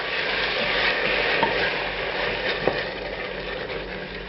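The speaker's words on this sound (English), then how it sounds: "Now I'm going to add tomato pulp" Tomato pulp, 400 grams, going into a pan of browned onions for a sweet potato curry, giving a steady close-up sizzle and frying hiss with a couple of brief utensil knocks, no voices.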